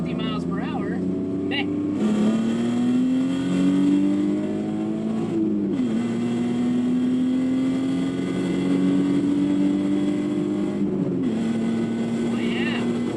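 BMW E36 compact with a 2.8-liter six-cylinder N52 engine, driven on the road with a loud steady drone that rises through the gears in long pulls, with brief dips at each shift.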